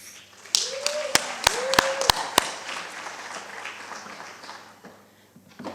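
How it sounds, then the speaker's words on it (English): Scattered audience clapping at a media and gender-equality panel session, with a few sharp, distinct claps standing out over a looser patter while a panelist takes a seat; a voice and some sliding tones sound underneath. "we clap until the panelist is seated"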